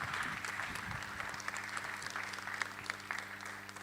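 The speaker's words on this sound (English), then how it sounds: "let's give her another round of applause" Fairly faint, steady applause from a forum audience, many hands clapping continuously with a low hum beneath.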